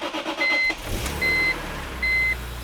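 A BMW M car engine, with its mass airflow sensor disconnected, cranks and catches around a second in, then settles into a low steady idle as three loud, evenly spaced electronic warning beeps sound over it.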